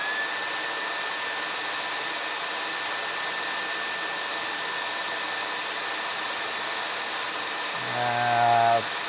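A shop vacuum runs through a hose taped to a metal stethoscope during servicing of an R34 Nissan Skyline, with a loud steady whine and roar. Near the end the motor note drops and wavers.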